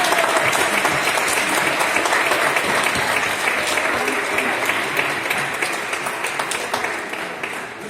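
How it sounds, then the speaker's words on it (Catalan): A crowd claps steadily throughout for small children at an award ceremony, dense and loud, tapering slightly toward the end. "Que fem un fort aplaudiment, no?"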